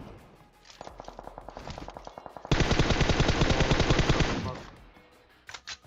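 Automatic gunfire rattles in the mobile battle-royale game PUBG Mobile: a rapid burst of shots, then a louder, denser sustained volley for about two seconds, ending with a few scattered single shots.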